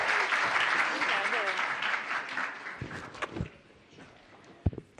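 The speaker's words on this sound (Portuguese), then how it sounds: "Palmas" An audience claps for a woman called to the stage at a Brazilian startup pitch event, the steady applause mixed with voices and chatter, then fading around the three-second mark into scattered footsteps and handling noises.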